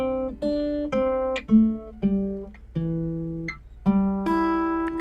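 A slow guitar melody of sustained plucked notes, each ringing clearly before the next, moving through a gentle sequence with a wide upward major sixth leap between notes.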